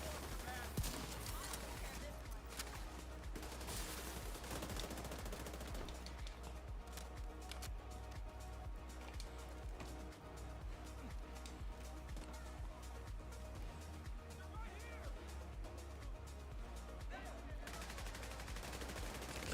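Gunfire aimed at a barrier in The Division 2 comes as faint, low-level rapid shots rattling steadily through the whole stretch, with soft background game noise.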